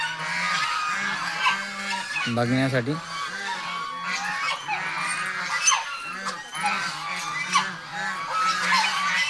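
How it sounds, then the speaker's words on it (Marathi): A noisy flock of ducks at a duck-rearing centre in Warora honking and calling over one another, repeated nasal calls throughout, with a short spoken word among them. "किती सारे बदक आहे"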